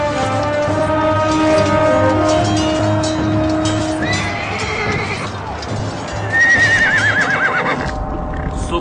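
A horse whinnies loudly twice, with trotting hoof clip-clops and other hoofbeats in the background, part of a dramatic battle scene with music underneath.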